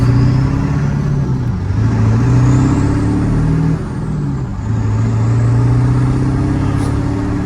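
A Hydra-tuned 7.3 Powerstroke diesel in a six-speed manual F-250 pickup, a loud deep engine drone heard from inside the cab, rising and falling as the revs change, with no talk.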